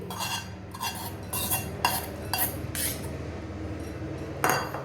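Gujiya stuffing with crushed cardamom and ghee-roasted dry fruits being stirred in a pan, with repeated scraping and clinking strokes at an uneven rhythm, close and moderately loud.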